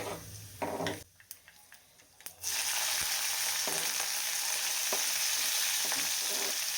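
Green chillies hit hot oil in a home kitchen pan, bursting into a loud, steady sizzle after a second of quieter clatter, the frying hiss holding strong and continuous with a few stirring knocks.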